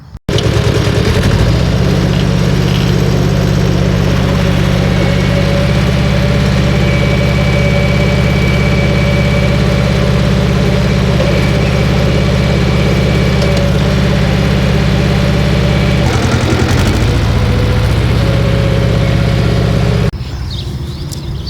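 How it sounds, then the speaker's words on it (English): A tractor's engine starts and settles into a loud, steady low rumble close by, holding for about twenty seconds before the pitch shifts near the end. "So I'm going to fire up the tractor, take a rip at this and see what happens."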